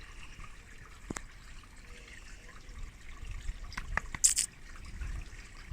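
Water trickles from a small garden pond waterfall, a soft continuous splashing with a few brighter drips and sharper splashes near the end, close by and fairly quiet.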